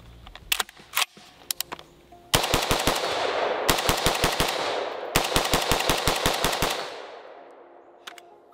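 A 5.56 rifle fires at an outdoor range in two rapid strings of sharp, loud shots, each burst ringing out with echo, preceded and followed by a few scattered clicks and lighter pops, with no talking.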